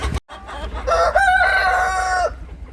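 A rooster crows once inside a henhouse, loud and close, with a long drawn-out call lasting well over a second.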